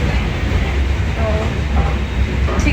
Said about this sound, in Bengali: কথা বলতে বলতে ট্রেনটা বিধাননগর জাংশনে ঢুকলো